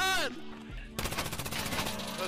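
Rapid bursts of video game gunfire crack in quick succession, loud and close, following a brief tonal sound at the start.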